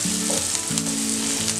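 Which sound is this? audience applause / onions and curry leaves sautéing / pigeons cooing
onions and curry leaves sautéing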